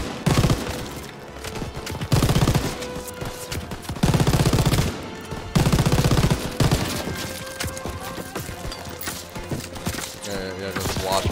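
Bursts of machine gun fire in Call of Duty WW2 gameplay, heavy repeated volleys every couple of seconds over continuous battle noise with background game music.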